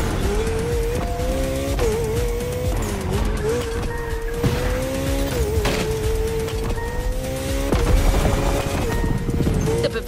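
A BMW Z4 M40i convertible drives in the racing game The Crew Motorfest, its engine note rising and falling through gear changes steadily over the whole stretch, fairly loud, with game music underneath.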